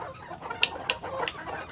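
Golden hens on a small egg-laying farm give a few short, sharp clucks at a moderate distance, spaced irregularly over a soft outdoor background.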